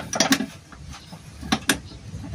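Wrench clicking in short bursts while a transmission mount bolt on a Toyota Avanza is tightened, a few quick ratcheting clicks near the start and two more around the middle, close and moderately loud in a quiet workshop.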